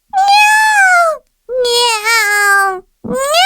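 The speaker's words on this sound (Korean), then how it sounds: "밤이 되자 어디선가 고양이들이 시끄럽게 울어댔어." Cats meow loudly at night in three long, drawn-out calls, close and clear, with short pauses between them.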